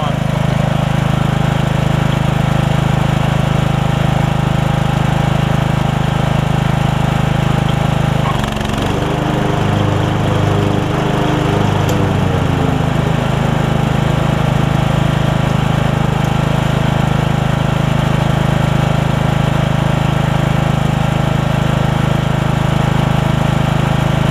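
A Craftsman riding mower's engine runs loudly and continuously nearby, a steady droning hum that briefly shifts and wavers in pitch partway through before settling back to an even idle-like roar.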